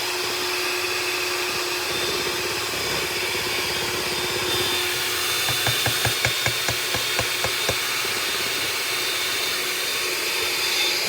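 An electric mixer creams chocolate pound cake batter, giving a steady close whirring motor hum. In the middle stretch it turns into a rhythmic rattle as the beaters knock against the bowl while scraping down, with no voices.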